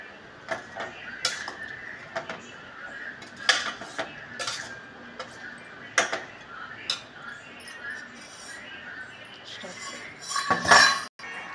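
Meal Maker 65 gets mixed in a metal pan with coriander and curry leaves, making scattered clinks and scrapes of a spoon against the pan at an irregular pace, close and fairly quiet.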